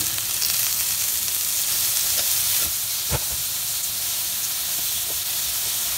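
Food sizzling loudly in a frying pan for carbonara-style spaghetti as pieces are turned, a dense, close, hissing crackle running throughout with a single soft knock of the utensil partway, and no voices.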